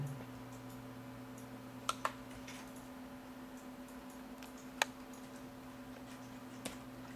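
A few isolated keystrokes on a computer keyboard tap out sparsely against a low steady hum, each click faint and sharp with long pauses between.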